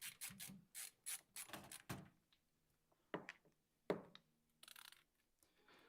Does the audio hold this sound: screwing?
yes